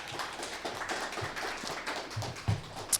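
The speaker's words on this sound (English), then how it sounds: "One more round of applause for my amazing judges." Scattered audience applause at an accelerator program's final presentations, thin and fairly quiet, with a few sharper claps near the end.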